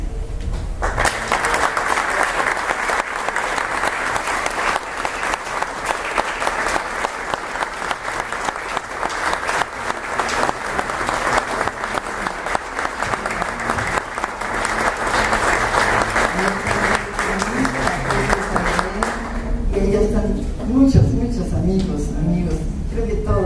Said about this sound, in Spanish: muchas gracias por ese lindo aplauso